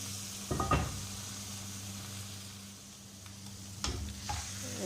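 Potato and vegetable omelette made with eggs and milk sizzles steadily in a frying pan after being flipped, with a couple of brief scraping knocks of the pan near the start and again toward the end.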